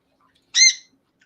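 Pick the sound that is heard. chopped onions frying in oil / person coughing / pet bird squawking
pet bird squawking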